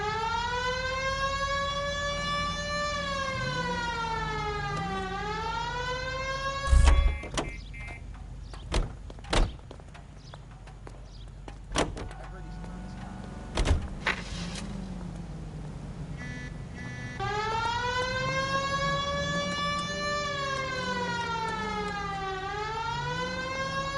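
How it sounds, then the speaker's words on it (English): A police car siren wails loudly, sweeping up and down, cuts out amid a few sharp knocks and thumps, then resumes its rising and falling wail. "Hit the siren."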